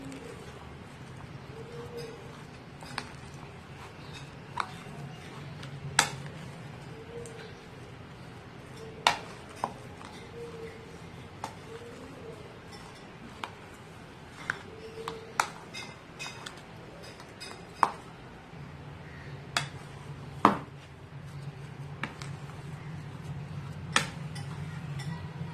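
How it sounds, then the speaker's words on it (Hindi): Boiled chicken being mixed into a potato and cheese cutlet mixture in a bowl produces quiet, scattered clinks and taps against the bowl over a low background hum. "अब हम इसको मिक्स कर लेंगे।"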